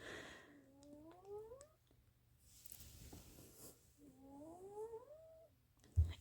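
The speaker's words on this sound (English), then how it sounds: "there is a cat snoring" A cat makes two drawn-out rising, whining vocal sounds, faint and close, separated by a quiet pause, with a soft thump at the end.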